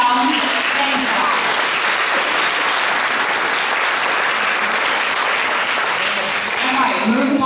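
Steady, loud applause from the audience at a children's graduation performance, a dense and even roar of clapping that lasts several seconds with faint voices mixed in.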